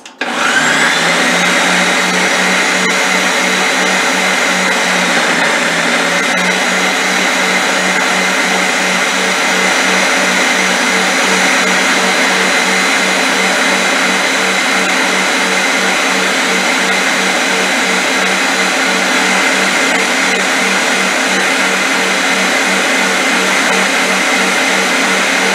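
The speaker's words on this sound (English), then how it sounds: "Remember, the ninja is loud, okay? So you're gonna hear the motor." A Ninja blender motor runs loud and constant for about 25 seconds while mixing sweet potato cream cheese pie filling, with a steady high whine and no talk over it.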